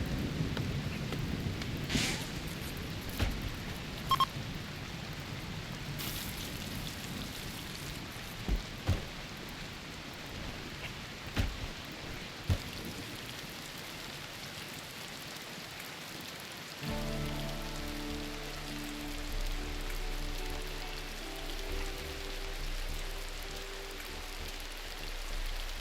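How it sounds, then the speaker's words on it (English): Rain falls steadily in the Rimworld colony game, a continuous hiss of drops on surfaces with scattered sharp clicks and a distant roll of thunder, before a soft musical tone enters beneath the downpour. "And now it's raining as well"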